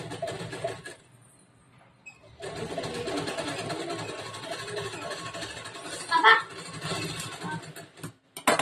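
A sewing machine stitching the lining of a blouse, with a short burst of running, a pause, then a longer steady whirring run close by, plus a few clicks near the end.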